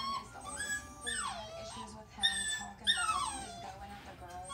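A dog with a sore elbow whimpers close by in repeated high, wavering whines that rise and fall in pitch, with a soft human voice at times.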